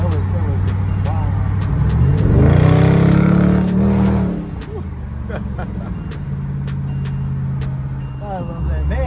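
A supercharged C6 Chevrolet Corvette engine revs up to a loud, rising roar with a supercharger whine, then drops back to a lower steady drone, heard from inside the car while people talk over it.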